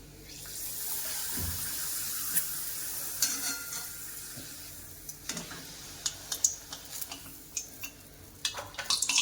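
Papad frying in hot oil outdoors, a steady close sizzle with scattered crackles and pops that grow denser toward the end, no talking.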